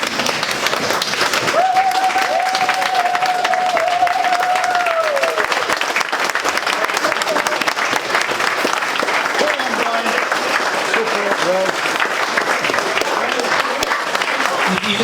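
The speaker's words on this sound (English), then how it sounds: "So I'd like to give a big round of applause" A bodybuilding event audience gives a long standing ovation, sustained crowd clapping filling the room, with a brief sustained vocal whoop early on and voices mixed faintly beneath.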